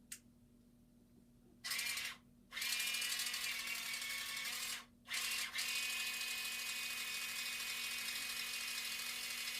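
High, whining hum of a small Z8000M motor spinning a headstock assembly through a belt. It starts and stops a few times, then runs steadily and fairly quietly.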